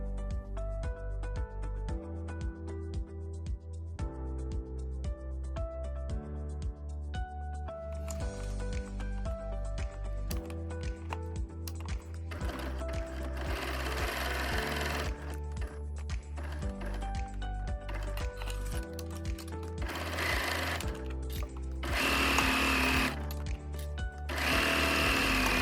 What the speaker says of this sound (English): I'm going to go back to the machine and I'm going to sew from one pin, remembering to backstitch, all the way around all sides to the other pin